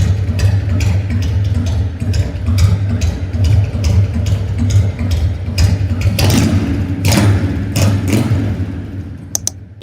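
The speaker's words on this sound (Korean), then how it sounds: "반스 머플러 소리 한번 들어보겠습니다" A 2006 Harley-Davidson Heritage Softail with a carbureted 1450cc engine and Vance muffler idles loud and close, its uneven loping beat steady throughout, with a brief rev swelling near the end.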